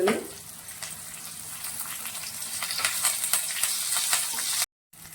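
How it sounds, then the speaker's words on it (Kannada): Garlic and curry leaves fry in a pan of oil for red chutney, a steady close sizzle and crackle that grows busier toward the end, starting with a brief thud and cutting out abruptly just before finishing. "ಬೆಳ್ಳುಳ್ಳಿ ಹಾಕ್ತಾ ಈಗ ಫ್ರೈ ಮಾಡ್ಕೊಳ್ಳೋಣ ಕರಿಬೇವು ಹಾಕ್ತಾ"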